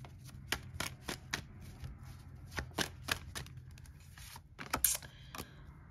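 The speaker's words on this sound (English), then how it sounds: "Let me just shuffle this again." Tarot cards are shuffled with soft riffling bursts and light taps, a quiet, irregular sequence of flicks close by.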